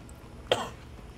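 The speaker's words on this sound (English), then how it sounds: "I really wish I would stop coughing and clearing my throat" One short, quiet cough with a brief throat-clearing catch, close to the mic against a faint background hum.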